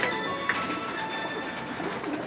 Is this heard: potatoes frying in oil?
no